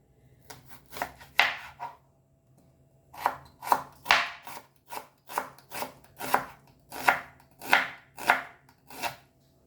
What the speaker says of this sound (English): So first we'll chop our onion.